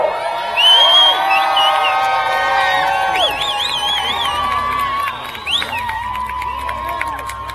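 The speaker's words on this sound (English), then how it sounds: "Why don't we all give Cindy a cheer to bring her on up a little faster?" A large outdoor crowd at the finish of the 2015 Iditarod cheers, whoops and shouts loudly for Cindy Abbott, high voices and children's yells layered together in a sustained, lively roar that eases slightly toward the end.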